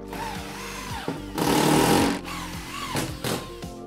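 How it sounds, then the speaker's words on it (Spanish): A power screwdriver driving screws into the joints of moisture-resistant plasterboard panels, with short motor whines and a louder grinding burst as a screw bites in, close and alone. "Después procedemos a poner los tornillos en las juntas, cada 20 centímetros."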